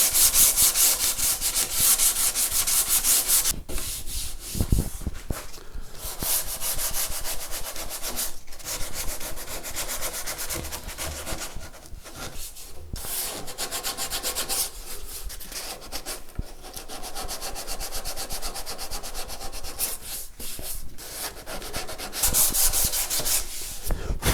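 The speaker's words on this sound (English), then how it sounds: "I'm just going to start then working my way through the grits with some progressively finer sandpaper." Sandpaper rubbed steadily along the carved wooden neck of an ES 335 guitar build, working through progressively finer grits; close, continuous scratchy strokes with brief pauses between passes and no talking.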